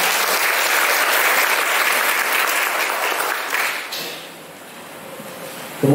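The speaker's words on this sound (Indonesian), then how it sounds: "Tepuk tangan untuk beliau semua." Dense audience applause at a youth political school event held by the KNPI regency board in Tegal, loud and sustained before tapering off after about four seconds.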